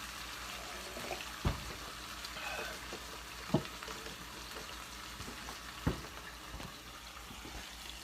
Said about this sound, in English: Take a look at all that bacon sizzling up in the stove here.